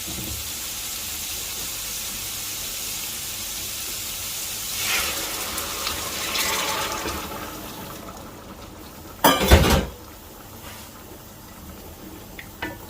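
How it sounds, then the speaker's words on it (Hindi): About two litres of hot water pour into a pot of browned mutton for Afghani (Kabuli) pulao, giving a steady close hiss and rush that swells midway, with a brief louder splash toward the end. "तो अभी मैं इसमें शामिल करूँगा तकरीबन 2 लीटर पानी।"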